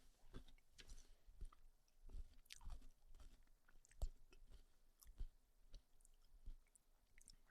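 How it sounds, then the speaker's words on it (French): Someone chews ice cream at a Paris tourist fast-food spot, soft, close crunches and wet squishes repeating in an irregular rhythm with quiet pauses, no voices. "Je finis de mâchonner ma glace"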